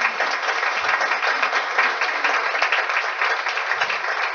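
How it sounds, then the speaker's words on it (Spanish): Church congregation at a regional meeting claps for visiting brothers and sisters, a dense, sustained round of applause that stays loud and even throughout with no voices over it. "démosle un aplauso a los hermanos."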